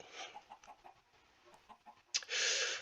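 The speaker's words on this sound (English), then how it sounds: "you can already hear the chickens behind the Fletcher's house here" Minecraft chickens cluck in a quick, steady run of soft calls behind a village house, then a louder, harsher rushing burst takes over near the end.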